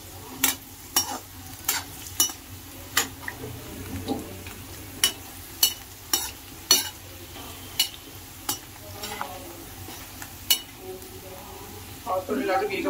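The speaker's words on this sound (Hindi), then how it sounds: "ये आलू को पहले ऐसे ही फ्राई करना होता थोड़ी देर तक।" Potatoes fry in a home kitchen pan with a steady low sizzle, punctuated by a dozen sharp scrapes and clinks of stirring, while voices murmur in the background.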